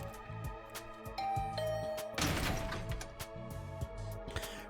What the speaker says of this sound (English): Rang the doorbell and waited.